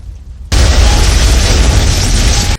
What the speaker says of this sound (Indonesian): Saat ditarik, bom meledak di rumah itu dan Alice semakin kaget.